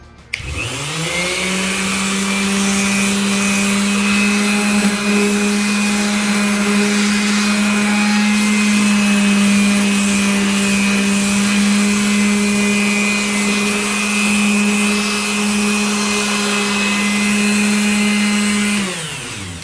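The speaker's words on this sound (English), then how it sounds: "I use basically a palm sander" A palm sander strips old paint from a greenhouse window, its motor droning steadily and loudly for nearly twenty seconds, starting and stopping abruptly.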